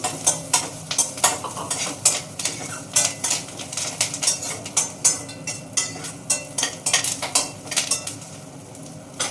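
Curry leaves sizzling in a hot tempering of fried dals, chilli and cumin, stirred with a utensil that clinks rhythmically against the pan, up close with a continuous crackle and no talking.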